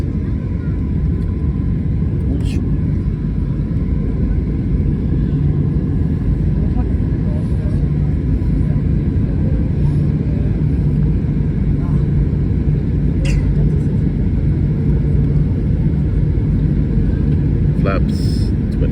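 A low, constant rumble of airliner engines and wind fills a passenger cabin during a gusty approach to Brussels Zaventem airport, steady and heavy with faint clicks and thumps now and then.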